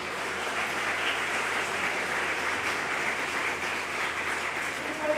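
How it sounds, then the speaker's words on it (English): Audience applause at a student parliament colloquium, a steady, even wash of clapping from a crowd that stays at a constant moderate level throughout with no voices on top. "A big round of applause for building number 2 and his representative."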